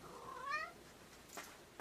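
A pet cat gives a single clear meow, rising then falling, close to the microphone against a quiet room.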